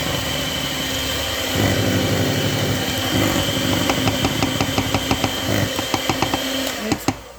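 An electric mixer blends the wet ingredients for pizzelle dough, a loud continuous motor whir with shifting pitch, ending in a run of rhythmic knocks and clacks as the beaters scrape around the bowl.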